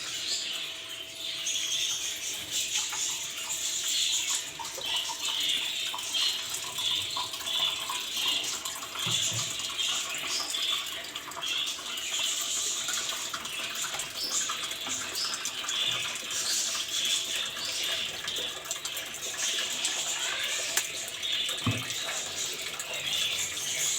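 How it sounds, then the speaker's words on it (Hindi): Tap water runs continuously over cut potatoes in a bowl for home-made snacks, a steady, moderately loud splashing wash with no voices. "इसको इतना ऊपर पानी कर दें कि ये अच्छी तरह से इसमें डिप रहें।"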